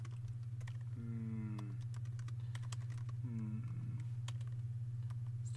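Quick, irregular clicks of typing on a MacBook keyboard over a constant low electrical hum, with a couple of brief tonal sounds between the keystrokes.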